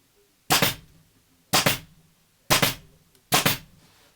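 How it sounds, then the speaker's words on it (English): Staple gun driving staples into striped upholstery fabric on an armchair during reupholstering: four sharp, loud snapping shots about a second apart, close up, in a quiet room. "you can use your staple gun to push it up like that"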